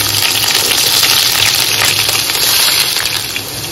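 Thick-sliced onions hiss and sizzle loudly in hot oil for a hilsa curry, a dense continuous frying crackle that eases slightly near the end.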